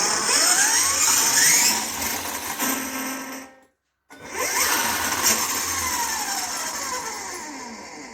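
Mamba Monster XLX2 electric motor in an RC car running at slow crawler speed, a close whining electric drone with rising and falling pitch that cuts out briefly to silence before revving back up.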